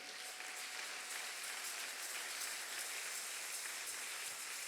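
A church congregation applauds, a broad, even wash of clapping that stays steady and fairly distant for the whole stretch, with no voices above it.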